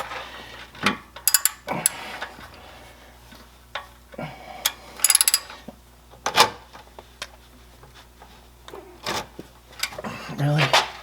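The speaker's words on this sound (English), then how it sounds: "the oil pan drain plug is a 1/2-inch bolt. So I've got a 1/2-inch socket on my ratchet," A ratchet fitted with a 1/2-inch socket loosens the oil pan drain plug on a 2005 Ford Explorer Sport Trac with a 4.0L V6, giving bursts of sharp, close clicking separated by pauses, with a voice talking in between.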